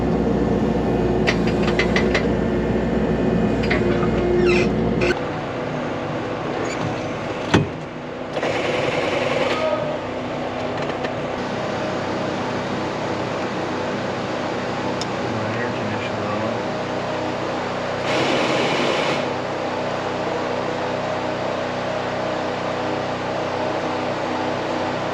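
A skid steer engine runs steadily on a farm, a loud continuous close mechanical drone with a few brief clanks and shifts, while people talk over it at times.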